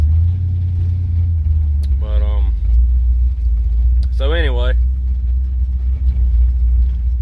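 A classic car idles with a deep, steady low rumble at an evening Pigeon Forge rod run show, loud and continuous, while someone talks briefly over it.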